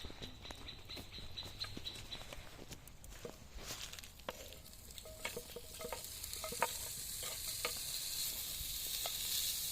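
Lard frying in a cauldron outdoors for a quick field porridge, a crackling sizzle that builds louder over time, dotted with sharp pops and clinks close by, with no talking.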